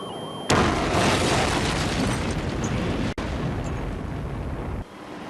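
A long roaring explosion from the ending of the Twisted Metal 2 video game, a loud sustained blast that rumbles for several seconds with a brief dropout midway before fading.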